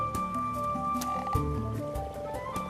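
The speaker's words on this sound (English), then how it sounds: "And the common frogs feel spring fever too." Common frogs croak in shallow water in spring during their spawning migration. Repeated low, grunting croaks from several frogs overlap closely, with a few sharper clicks and splashy sounds.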